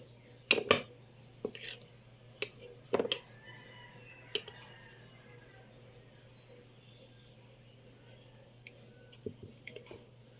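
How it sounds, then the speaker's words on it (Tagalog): A spoon clinks against a small cup while stirring a calamansi cold remedy with a little sugar, giving a few sharp taps in the first three seconds and a soft scattered cluster near the end, with quiet stretches between. "Haluin lang natin"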